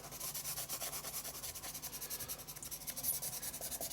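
A Stabilo All pencil shades on paper with a steady, rhythmic scratchy rubbing of fast back-and-forth strokes. The sound is close and soft and is heard alone.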